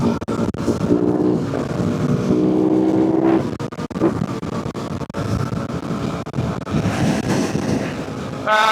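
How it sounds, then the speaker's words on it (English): Strong wind buffets the microphone while a Yamaha WR450F dirtbike is ridden outdoors, giving loud, uneven gusty roaring with a rising and falling engine tone underneath and no voices. "it's windy out here"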